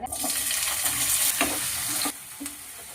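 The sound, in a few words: potatoes cut like French fries frying in oil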